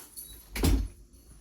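A dog scratching at a door from inside to be let out, a single close scraping rub of claws on the door with a brief thud, heard alone in a quiet room.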